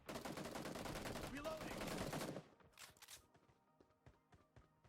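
Rapid, dense video-game gunfire rattles loudly and without pause for about two and a half seconds, then breaks off into scattered faint shots, clicks and footsteps.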